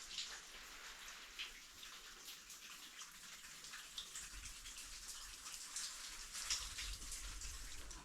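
Water dripping and trickling inside an old mine, a faint, steady patter of drops with a hollow background and no voices.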